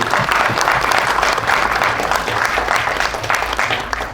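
Applause from an audience at a Punjabi film trailer launch, a dense, steady clapping that fills the whole stretch without pause, loud and close with a faint crowd murmur beneath.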